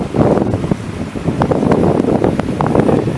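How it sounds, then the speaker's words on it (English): Loud, steady wind buffeting the microphone aboard a solar-powered boat on the Trent-Severn Waterway, a continuous rushing roar with slight gusty swells and no talking. "Oh, here comes the wind."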